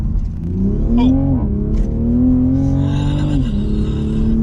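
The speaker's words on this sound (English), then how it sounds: "I love it that you can hear that exhaust through there" A 2020 Toyota GR Supra Gazoo Racing Edition revs in sport mode with a loud, steady exhaust drone that rises and dips in pitch, heard up close from inside the car without speech.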